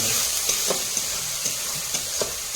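Ground tomato masala fries in a pan for a prawn malai curry, a steady hissing sizzle broken by regular scraping strokes of a spoon stirring about twice a second, with no talking.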